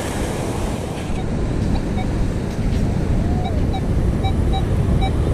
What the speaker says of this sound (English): got to be careful with the waves